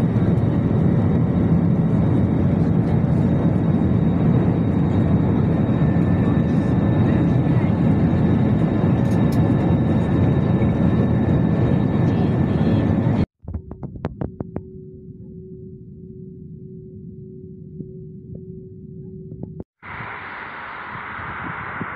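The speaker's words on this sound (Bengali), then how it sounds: "এখন আমরা ল্যান্ডিংয়ে আছি। ইনশাআল্লাহ অল্প কিছুক্ষণের মধ্যেই আজারবাইজান বেকু এয়ারপোর্টে ল্যান্ড করব" Airliner cabin during the final approach and landing at Baku airport, Azerbaijan: a steady, loud roar of engine and air noise fills the first part, then cuts to a quieter, humming interior with a few sharp clicks and thumps.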